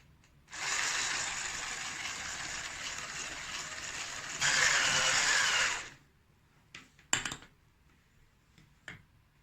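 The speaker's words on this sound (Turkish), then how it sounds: "Şimdi tekrar karıştırıyorum." An electric mixer whirs steadily through wet brownie-style cake batter for about five seconds, growing louder near the end before cutting off, followed by a few sharp clicks and knocks.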